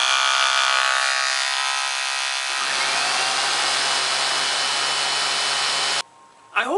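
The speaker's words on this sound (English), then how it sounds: "turn the Flobe on and your vacuum on and start cutting" A Flowbee vacuum haircutting system running with a vacuum cleaner: a loud, steady motor whine, joined partway through by a deeper droning hum, then cutting off abruptly near the end.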